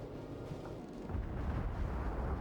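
Naval guns firing in the World of Warships battle game, a heavy booming rumble that swells about midway and holds, loud and close, with no talking.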